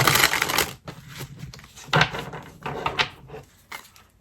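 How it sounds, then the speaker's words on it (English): Papery riffling and soft slaps as a deck of cards is shuffled close by, in several quick bursts with short pauses between. "One more shuffle."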